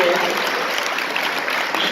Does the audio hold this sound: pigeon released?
no